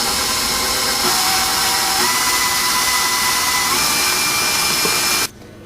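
An electric mixer beats fudge batter in a steady, loud motor whine that runs evenly for about five seconds, then cuts off abruptly, leaving only a faint background hush.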